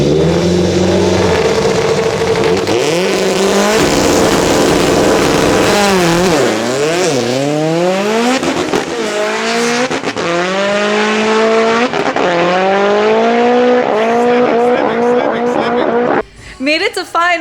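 A Mitsubishi Evo 8 and a Honda Civic drag racing at a NOPI event, their engines revving hard and climbing through repeated gear shifts, loud and sustained, with a voice talking over the roar.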